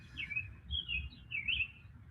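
Birds chirping outdoors in short, bright, repeated tweets at moderate distance, over a low soft background rumble.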